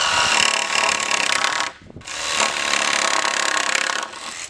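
Power saw cutting through a piece of timber, two loud sustained cuts with a short pause between them, close by and with no talk over them.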